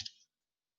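A single sharp click of an Enter key pressed on a keyboard, brief and close, followed by silence.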